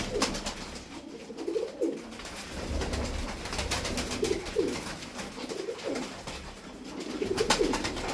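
Pigeons coo repeatedly in soft, throaty phrases over a steady low background hum, several birds close by.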